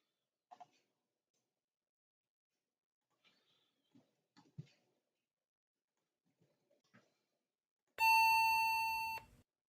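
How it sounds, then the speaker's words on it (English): In a video game under development, a call button gives a single loud electronic tone that sustains for about a second and a half, after scattered faint clicks and small sounds. "Call button beep."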